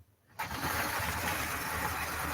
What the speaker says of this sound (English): there's that engine when it warms up